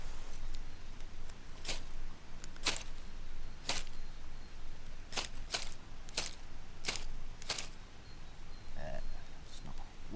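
Knife blade struck against a flint while camping, giving about ten sharp, bright scrapes at irregular intervals, close and crisp over a quiet background.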